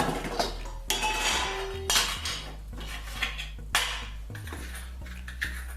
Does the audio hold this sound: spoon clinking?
yes